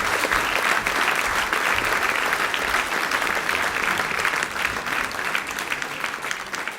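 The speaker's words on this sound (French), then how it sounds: "Allez, on l'applaudit." A concert show audience applauds continuously, the dense clapping of a full crowd loud and close, easing slightly toward the end.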